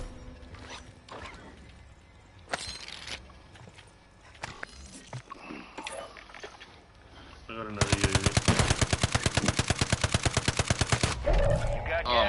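Call of Duty Warzone gunfire: a few scattered single shots and bursts early, then a long rapid automatic burst of evenly spaced loud shots, with people talking underneath.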